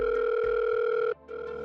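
A landline telephone in a cartoon gives a loud, steady electronic tone. It cuts off abruptly, then returns more faintly after a short gap.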